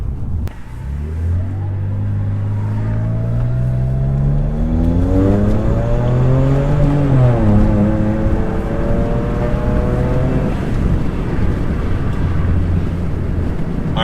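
A BMW N54 car with an MHD tune accelerates hard on a highway into turbo boost. The deep engine note climbs steadily in pitch through the gears, drops briefly at a shift, then rises again under steady road rumble.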